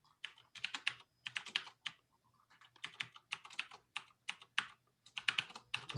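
Typing on a computer keyboard while editing in Vim, with irregular bursts of close, crisp key clicks separated by brief pauses, heard alone with no talking.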